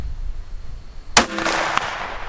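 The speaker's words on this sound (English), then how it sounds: "I'll take my next shot." A single loud rifle shot fired from a shooting bag rest (Armageddon Gear Gamechanger), a sharp crack followed by a brief ringing tail, with a quiet lead-in and a faint later tick.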